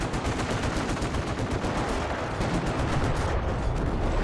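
Sustained, dense automatic gunfire from machine guns in a Company of Heroes World War II strategy battle, loud and continuous with overlapping bursts and heavy low rumble throughout.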